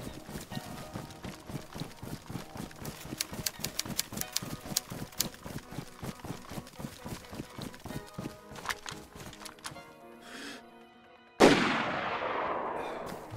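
Gunfire from the game DayZ Standalone cracks out in a long, rapid run of shots, then thins to scattered shots before a sudden loud burst of hissing noise near the end.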